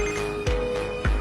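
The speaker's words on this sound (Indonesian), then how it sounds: "Sekarang ayahnya telpon lagi." A telephone rings in a scene from the horror film The Corpse of Anna Fritz, two evenly spaced rings over a steady electronic tone, fairly loud and alone.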